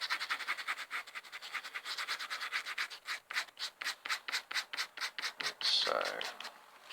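Red colour being rubbed over a collagraph printing plate, making a fast, rhythmic series of dry scratchy strokes up close that quickens toward the end.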